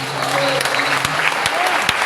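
Church congregation applauding during a worship service, a steady wash of clapping hands throughout with a few sharper claps standing out and a faint voice underneath.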